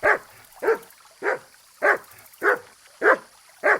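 A dog barks in the video game Kingdom Come Deliverance 2, giving seven sharp, evenly spaced barks about half a second apart, close and clear with no talk over them.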